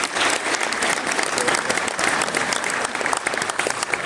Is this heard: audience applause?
yes